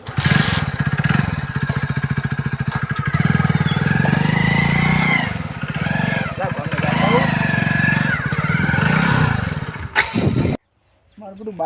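A motorcycle engine that keeps stalling chugs and idles in a steady low pulse close by, while voices talk loudly over it until a sudden cutoff near the end.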